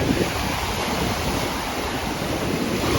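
Sea waves wash onto an Italian shore in strong wind, a steady loud roar of surf and gusting wind buffeting the microphone, with no talking.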